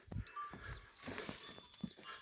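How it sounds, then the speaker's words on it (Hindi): Buffalo and cows kept in a mountain village make faint animal sounds, with a light bell-like clink among soft rustling at a distance. "ये उनकी भैंस है"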